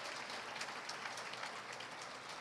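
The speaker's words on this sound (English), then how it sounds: "Let's give them a big round of applause." Audience applause for an independent bookstore's staff at a talk event, a steady dense wash of many hands clapping throughout, moderately distant and fairly faint, with no voices standing out.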